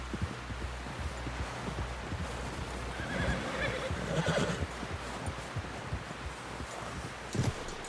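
A horse in the video game Red Dead Redemption 2 gives a whinnying neigh over soft, steady background noise and thudding movement, fairly near and moderately loud, with no talk.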